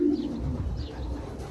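A bird from Portugal, thought to be a falcon, gives a low, soft cooing call close by for a brief moment.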